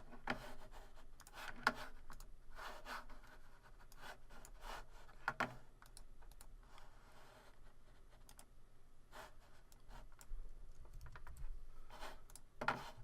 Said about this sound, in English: then type my name